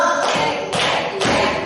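A group claps hands together in a rhythmic clapping game, producing three evenly spaced bursts of clapping close by.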